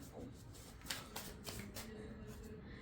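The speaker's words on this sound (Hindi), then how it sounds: "10 ऑफ सोर्ड्स के लिए भी कार्ड निकालते हैं" Tarot cards being shuffled and drawn during a reading: soft, quiet riffling with a few distinct card flicks and slaps, close but faint, no speech.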